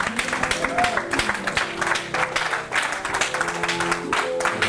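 Church congregation applauding during a worship service, steady clapping spread across the room with crowd noise and some voices mixed in.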